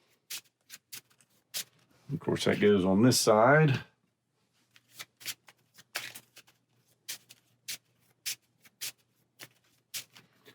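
Cards from the Venom Assault deck-building card game are shuffled in one dense burst of riffling, surrounded by sharp clicks and taps of cards set down on a table, with a person talking briefly between them.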